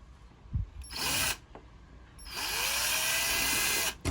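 Two bursts of a power drill with a center drill bit whirring, a short one then a longer sustained run, close by with brief pauses between, on a sailboat.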